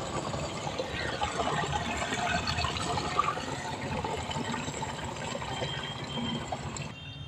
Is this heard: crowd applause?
no